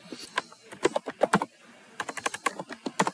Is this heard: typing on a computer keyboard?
yes